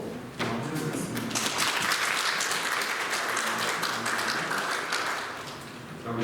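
A church congregation at a Sunday worship service applauds to welcome a visitor, a sustained burst of many hands clapping at moderate distance, rising quickly and tapering slightly toward the end.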